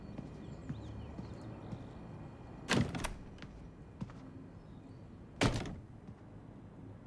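In the video game Life is Strange 2, a door opens indoors, with two sharp knocking clunks several seconds apart over quiet ambient background.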